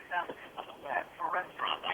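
A phone unexpectedly playing audio with a synthetic assistant voice talking, thin and band-limited, steady speech-like phrases running continuously near the microphone.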